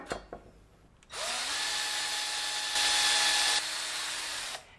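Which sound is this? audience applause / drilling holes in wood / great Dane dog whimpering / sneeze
drilling holes in wood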